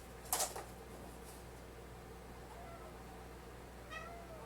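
A cat meows twice, a sharp close cry near the start and a fainter drawn-out meow toward the end, over a quiet steady room hum.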